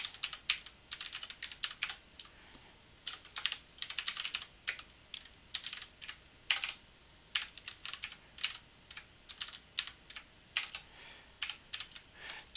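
Computer keyboard typing a C++ header file of macro definitions, close and crisp bursts of rapid keystrokes separated by brief pauses, with no talk.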